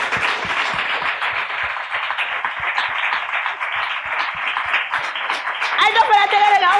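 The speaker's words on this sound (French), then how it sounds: "On applaudit pour elle." Audience applause at a talent showcase, rapid dense clapping held at an even level under an amplified voice, with music swelling near the end.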